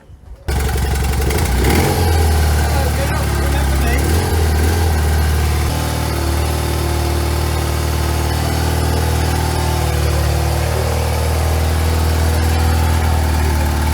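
A 50cc motorbike engine with its throttle jammed open runs loudly and steadily close by, holding a constant high drone for the whole stretch after a brief start.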